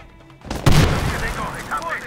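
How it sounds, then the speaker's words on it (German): A grenade goes off in the first-person shooter Medal of Honor Warfighter with one sudden loud boom and a rumbling tail, followed by fainter game sounds and a voice. "Granate ist explodiert"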